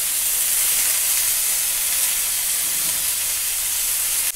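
Ridge gourd (dodka) fries in hot oil with curry leaves, a loud, dense, continuous hiss of sizzling that holds steady throughout, close up with no voices.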